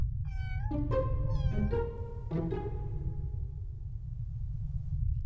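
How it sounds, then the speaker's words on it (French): A cat meows three or four times in quick succession, clear and fairly close, the calls fading into a low steady background hum. "J'entends un chat miauler."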